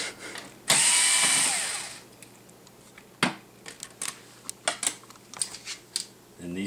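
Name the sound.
removing hard drive cover of Motion Computing LE1700 tablet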